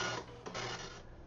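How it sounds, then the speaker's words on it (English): Tandy DMP-130 dot matrix printer from 1986 printing, a steady mechanical rasping buzz with brief pulses of louder print-head chatter over about a second, close and alone. "the printer that I'm going to be working with is the Tandy DMP-130"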